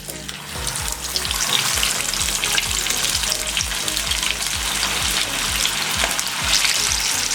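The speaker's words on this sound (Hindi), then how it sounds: "अब आहिस्ता से इसमें फिश के पीसेस ऐड करेंगे और इसको अच्छे से गोल्डन होने तक फ्राई कर लेंगे।" Fish pieces frying in hot oil in a frying pan, a loud, steady, close sizzle and crackle that continues throughout with faint stirring sounds.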